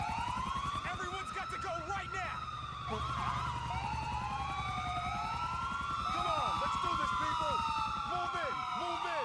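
Police car sirens in Grand Theft Auto IV: several overlapping wailing sirens rise and fall continuously over a low traffic and engine rumble, loud and close throughout.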